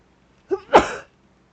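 A single person sneezes close by, a short inhaled catch followed by a sharp, forceful burst, then quiet.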